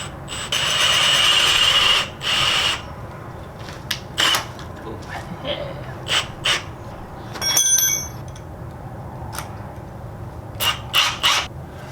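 Power drill with a spade bit boring a hole through wood, one loud, close whirring run that stops after a couple of seconds, then scattered clunks and handling knocks of the workpiece and tools.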